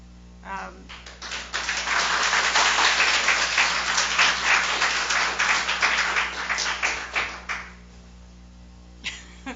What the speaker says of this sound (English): That wasn't for an applause line.